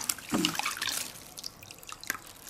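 Mugwort water trickling and dripping while a woman's hair is washed at home, soft close splashes and drips in an irregular pattern with quiet pauses between.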